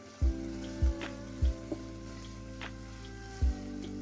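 Yogurt added to keema frying in a pan: a soft, steady sizzle with a few low thumps of spoon or pan contact, faint and close, no talking.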